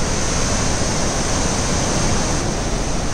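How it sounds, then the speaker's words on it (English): Athabasca Falls pours in a loud, dense, continuous roar of rushing water, steady and close with no pauses. "The fall is flowing from here and is headed far away."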